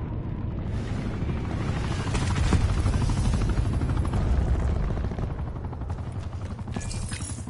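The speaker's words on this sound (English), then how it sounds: "Hostile attack chopper inbound." A hostile attack helicopter in Call of Duty: Black Ops 4 passes overhead, its loud continuous rotor roar mixed with bursts of gunfire and explosions, with no talk.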